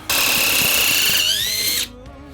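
A Stromo cordless impact wrench tightens a fastener in one loud, close, high-pitched whine lasting under two seconds, then cuts off abruptly.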